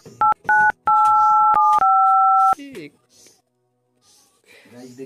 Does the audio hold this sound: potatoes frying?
no